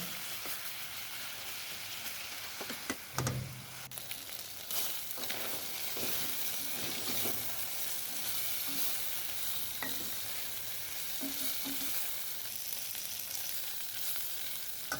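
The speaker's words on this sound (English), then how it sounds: "So I fried the beef until it started turning golden brown." Beef browning in a pot for stew, giving a continuous hissing sizzle like light rain, with occasional stirring knocks and scrapes, moderately faint and without talking.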